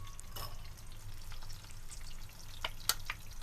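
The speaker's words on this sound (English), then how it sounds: "we're just going to saute the onions and the garlic until nice and transparent" Onions and garlic sautéing in hot oil in a pan, a soft continuous sizzle with scattered pops and light crackles, a sharper tick near the end.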